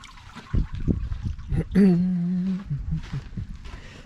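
Water trickling and splashing through a Riverdance mini-jig used to test for placer gold, heard as close, uneven spurts and gurgles with a brief tonal voice-like sound in the middle.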